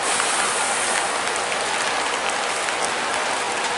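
Steady rain pours down over a bus departure platform, a dense, even hiss of drops on surfaces that fills the whole stretch without pause and with no voices.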